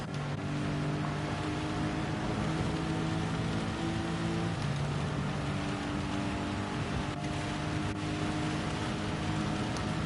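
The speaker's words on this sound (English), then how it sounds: "And there is the heavy rain." Heavy rain in the racing game Gran Turismo 7 at Spa, Belgium during a British Touring Car Championship round, a steady loud hiss of downpour over a low engine drone, no talk.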